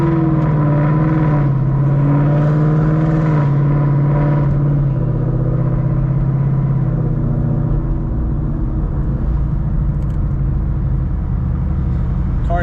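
A Roush Stage 3 Mustang engine drones steadily while driving, a low continuous rumble with slight pitch shifts as it runs through the gears.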